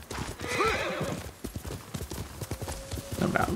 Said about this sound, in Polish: Koń tutaj na nas czeka cierpliwie.